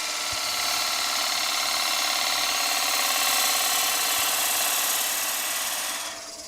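Wood lathe spinning a small workpiece held on a small dovetail while a small bowl gouge cuts it: a steady, loud whirring hum with fine shaving hiss that runs evenly, then tapers slightly at the end.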